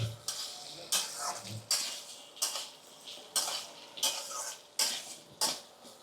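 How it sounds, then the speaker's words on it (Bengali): Potatoes and chopped onion frying in a wok, heard as a regular series of spatula scrapes and clinks against the metal about every half second over a faint sizzle, with no voices. "আলু আর পেঁয়াজটা একসঙ্গে ভাজা হয়ে যাবে"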